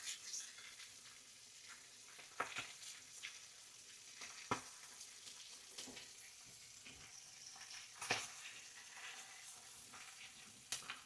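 Bacon, alongside pork and red onion, frying in a pan outdoors, giving a soft continuous sizzle with scattered crackles and pops and a few sharper spits, quiet and without talk.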